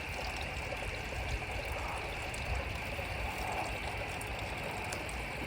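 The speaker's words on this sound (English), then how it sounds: "here is our new water feature, which I bought for the loud sound the water makes" A new garden water feature splashes and trickles steadily, a continuous broadband wash of running water close by, with a faint background hum that may be traffic.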